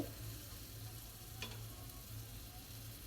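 Greens and fish curry (potato, greens and small fish) sizzle quietly in a pan while being stirred, with a low steady hum and one brief scrape of a utensil. No one speaks.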